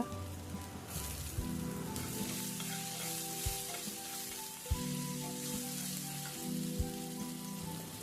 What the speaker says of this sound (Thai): เราก็จะเริ่มใส่ขิงลงไปผัดค่ะ ก็ผัดให้หอมเลยนะคะ แล้วจึงใส่พริกหยวกตามลงไปผัดต่อนะคะ